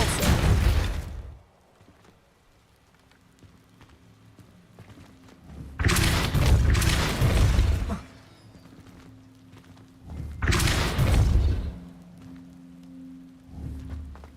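Three bursts of a spell's forceful whoosh and thud from the Hogwarts Legacy game, spaced evenly several seconds apart, each loud against a quiet low hum in between.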